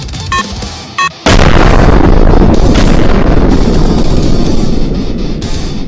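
A party balloon filled with propane-butane gas bursts into a loud, close fireball blast that roars on for several seconds, after two short tonal beeps.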